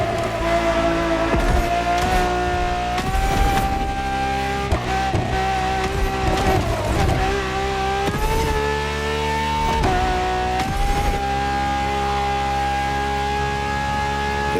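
A Ferrari hybrid V12 supercar, the strongest naturally aspirated Ferrari V12, races hard in The Crew Motorfest, its engine wailing at high pitch through long sustained pulls with brief dips at the gear changes, loud and steady throughout.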